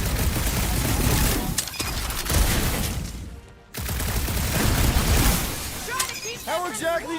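Marvel's Guardians of the Galaxy combat with steady gunfire and splashy, shattering impacts. A dense barrage drops out for a moment, then resumes as characters talk throughout.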